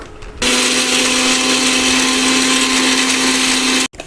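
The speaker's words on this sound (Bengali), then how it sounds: "এই বিস্কুটগুলো সব মিক্সির মধ্যে গুঁড়ো করে নেব" A mixer grinder pulverises biscuits into powder: after a brief quiet start the motor kicks in with a loud, steady high whir and a constant hum, then cuts off abruptly near the end.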